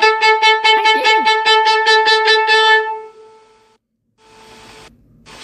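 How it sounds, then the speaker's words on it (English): A viola plays a typical orchestral viola part: a dozen short, evenly repeated bowed notes in a steady pulse. The notes then stop, followed by quiet and some faint noise. "So, a viola part will often sound like this."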